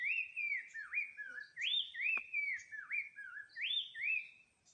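A wild bird sings a varied run of whistled, looping phrases, clear and fairly close, repeating in quick succession with no voices.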